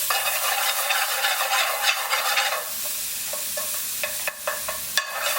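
Onions and peppers for lamb karahi cooking in a pan, a busy crackling sizzle at first that settles into a quieter hiss with scattered pops and spoon clicks.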